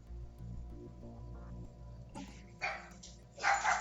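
Several dogs bark in a home, distant at first, then a few closer, louder yaps in quick bursts near the end over a low background hum.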